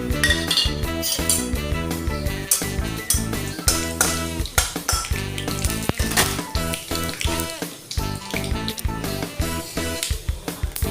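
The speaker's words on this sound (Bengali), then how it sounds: "আমি এরপর 5 ফোড়ন, শুকনো লঙ্কা, তেজপাতা আর কাসৌরি মেথি ফোড়নে দিয়ে দিলাম" Five-spice, dried red chillies, bay leaf and kasuri methi tempering in hot oil in a wok, a dense continuous crackle and sizzle with frequent metallic clinks of a spatula against the pan throughout.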